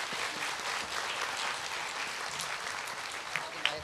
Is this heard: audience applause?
yes